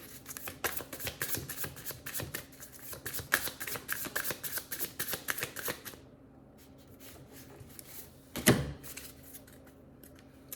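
A deck of Aboriginal oracle cards being shuffled close up, rapid rhythmic riffling flicks for about six seconds, then quieter handling and one sharp card snap or slap.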